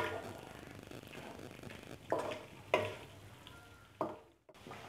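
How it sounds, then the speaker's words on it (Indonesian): Potatoes are stirred into sambal goreng frying in a pan, with a soft background sizzle broken by three or four sharp utensil scrapes and clanks before the sound drops away. "Sekarang saya mau masukin si kentang ya. Nah, kita aduk sampai rata ya."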